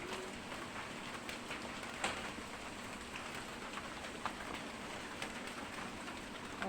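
Steady rain falls on a surface, a soft continuous patter with occasional distinct drops, fairly quiet and with no voices.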